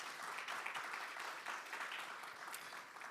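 Applause from a conference audience, a quiet, even patter of many hands clapping that swells gently and stays faint and distant, with no speech over it.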